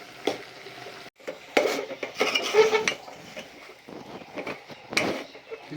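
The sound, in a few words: stirring rice flour methi puri dough in a pot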